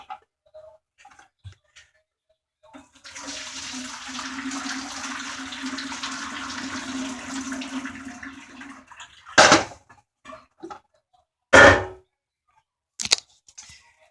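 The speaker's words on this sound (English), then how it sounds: "So I'm going to dump this out in the sink real quick." Water is poured out into a kitchen sink with a steady gurgling stream lasting several seconds, followed by a few loud sharp knocks and clunks from the pot or sink.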